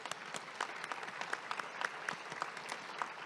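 Chamber of Commerce ambassadors at a monthly luncheon get a round of applause from the crowd, steady rapid clapping at a moderate distance that fills the room evenly throughout.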